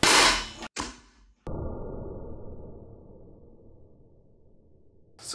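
An Umarex T4e HDX .68 caliber pistol fires into ballistics gel, a sharp loud crack at the start followed by a short gap and a long fading ring before another hit at the end.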